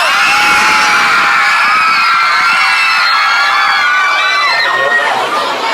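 A crowd of fans at a celebrity appearance in Ratchaburi, Thailand, screams and cheers without a break: dense, loud, high-pitched shrieks close by that fill the whole stretch.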